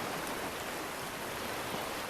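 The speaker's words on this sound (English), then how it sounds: "You can hear the waves coming in." Steady broadband wash of rain and surf in a Real VR Fishing saltwater level, continuous and fairly loud, with no distinct wave breaks, just an even rushing hiss throughout.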